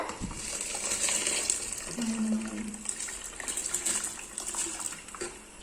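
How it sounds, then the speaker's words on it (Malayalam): Rice tipped into a pot of boiling water for chicken tikka biryani, a steady close wash of bubbling and splashing with a light grainy patter running through, and no voices. "അപ്പൊ ഫ്രണ്ട്സ് ഇതേ വെള്ളം തിളച്ചു. അപ്പൊ നമ്മൾ അരി ഇട്ട് കൊടുക്കുകയാണ്."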